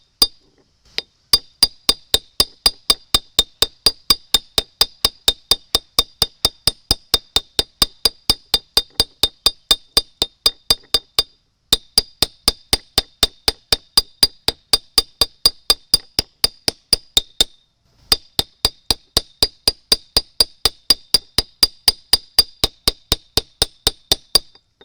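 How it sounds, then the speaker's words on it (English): Steady hammer blows ring out as a copper axe head is flattened on an anvil, dozens of sharp metallic clinks in an even rhythm, with two brief pauses between runs, close and loud with no talking. "I'm going to flatten this out by hammering"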